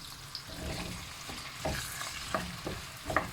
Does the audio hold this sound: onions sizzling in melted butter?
yes